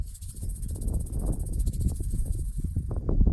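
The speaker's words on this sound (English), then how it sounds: "the seeds inside rattle just like a rattlesnake" Dry seed pods of rattlesnake grass rattling near henbane, a steady fine rattling hiss with crackly, shaking texture held throughout, fairly loud and close, with no voices.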